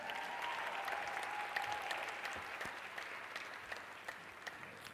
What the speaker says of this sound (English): Ladies and gentlemen, let's give a round of applause to Mr.